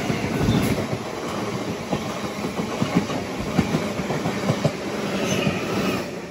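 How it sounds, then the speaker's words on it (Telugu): A MEMU train on the Marikuppam to KSR Bengaluru service passes close by. It sounds as a continuous rumble with rhythmic clickety-clack wheel beats and faint squealing throughout. "ఇప్పుడు వెళ్ళింది కదా ఆ మెమో ట్రైన్ ఏంటంటే మారికుప్పం, కేఎస్ఆర్ బెంగళూరు ఈ రెండింటి మధ్యలో తిరిగే మెమో ట్రైన్."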